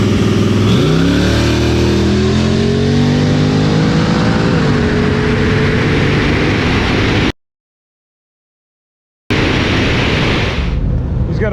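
A ProCharged Chevy II Nova drag car roars hard under acceleration, its engine note climbing and shifting through gears, loud and close. The sound cuts to silence briefly, then the roar resumes.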